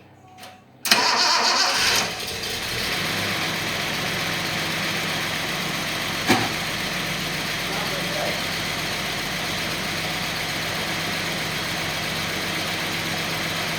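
A vintage Datsun 280Z engine, running rich and misfiring, cranks and catches with a loud burst, then settles into a steady, slightly rough idle that runs on, with a brief clunk midway.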